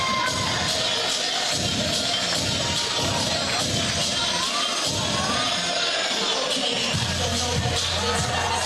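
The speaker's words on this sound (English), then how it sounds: "At least you can hear the applause" A wrestling crowd at a championship match applauds and cheers, a dense continuous roar of clapping and shouting voices filling the whole stretch.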